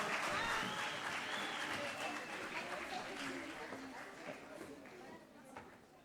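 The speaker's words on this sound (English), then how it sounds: "Let's give them a round of applause again," A round of applause from an audience at a gender-based violence campaign launch in Polokwane, clapping that fades gradually over several seconds, with voices and cheering mixed in.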